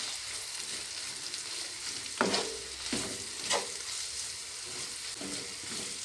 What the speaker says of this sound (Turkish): Tekrar iyice bir karıştırıyorum.